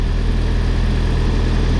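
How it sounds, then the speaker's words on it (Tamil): Steady, loud low idle of the diesel engine inside a refrigerated trailer's cooling unit, a constant chugging rumble with no pauses. "ஏன்னா இது ஒரு இன்ஜின் தான்"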